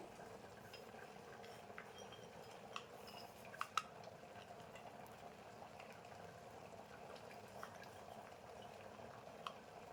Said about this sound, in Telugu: పక్కన మటన్ కర్రీ ఉడుకుతున్న సౌండ్ మీకు వినిపిస్తుంది.